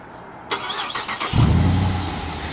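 A 2017 Dodge Charger R/T starts by remote: a brief electronic chirp, then the engine cranks and fires with a loud low rumble settling into a steady, close idle.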